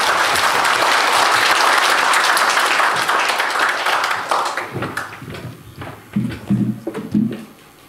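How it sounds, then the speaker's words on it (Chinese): Lecture audience gives loud, dense applause that fills the first four seconds, then thins into scattered individual claps and fades out by the end. "请我们大家用热烈掌声请索达迪堪布对我们进行讲座"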